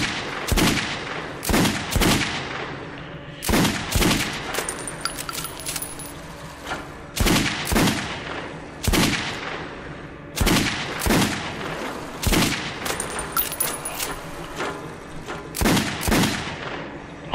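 Repeated sharp gunshots from the game Metro 2033 Redux ring out in bursts, some in quick pairs, with metallic clinks off armor and short echoing tails between them; no talking.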